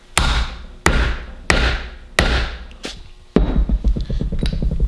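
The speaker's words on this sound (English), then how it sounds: "Hammer away." A small hammer strikes a metal anvil in a boat-building workshop, five loud ringing blows spaced about every half second, followed by a quicker run of lighter taps.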